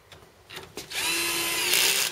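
A power drill drives bolts into a Euro guest bed frame, with a few light knocks first and then a close, rising motor whine that holds steady to the end.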